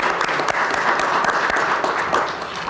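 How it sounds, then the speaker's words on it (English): An audience applauds at an outdoor news event at an ice palace in a park, producing a dense, loud, sustained wash of clapping that holds steady and fades slightly at the end. "So everybody, if you could give them a round of applause"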